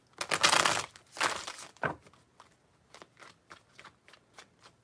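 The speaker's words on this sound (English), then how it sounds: "Three shuffles." A deck of tarot cards being shuffled by hand: two loud, close riffling bursts followed by a series of quieter, rhythmic card taps and slides, with no speech.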